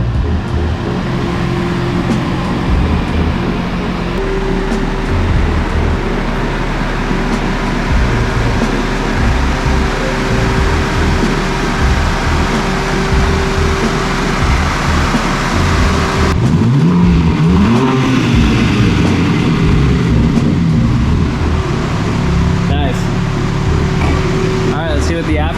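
BMW G80 M3 on its stock exhaust idling and revving in a garage, steady engine drone with a rising rev sweep partway through, with people talking over it.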